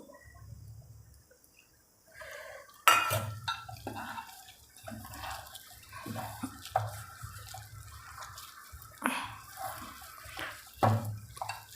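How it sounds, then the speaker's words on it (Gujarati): Water poured in small amounts into gram flour batter for cauliflower and potato fritters, with wet splashes and trickles starting after a quiet opening and continuing in short bursts, close by. "હવે આપણે થોડુંક પાણી નાખશું"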